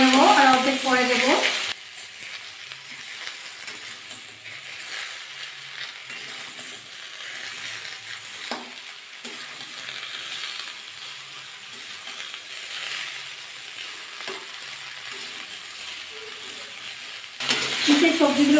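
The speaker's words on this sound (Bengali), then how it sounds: "পুঁইশাকটা অর্ধেক দিয়ে একটু নাড়াচাড়া করে নেবো" Malabar spinach (pui shak) is stir-fried with spices in a pan, giving a soft, steady sizzle with occasional light stirring scrapes, framed at the start and end by brief louder bursts.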